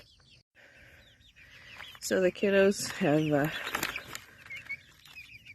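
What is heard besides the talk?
chickens clucking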